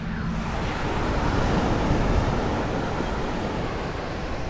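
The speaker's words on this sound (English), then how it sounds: "Continuing to listen to the sounds of the ocean." Ocean waves wash steadily onto a Maui shore, a broad continuous surf roar with gentle swells in loudness and no voices.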